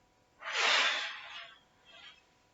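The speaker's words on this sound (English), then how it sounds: "breathe in" A deep inhale during a yoga breathing exercise, one long, airy, fairly close intake of breath followed by a softer, shorter breath a moment later, with no talking.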